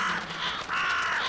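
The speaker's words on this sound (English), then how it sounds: "Crows." Crows cawing in the video game The Vanishing of Ethan Carter: harsh, repeated caws from a couple of birds that overlap and fill the short stretch, fairly loud against a quiet background, with no talking.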